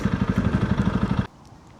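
A 300 Rally motorcycle engine thrums loud and close in a fast, steady pulsing beat while riding, then cuts off sharply, leaving a quieter low rumble for the last half second.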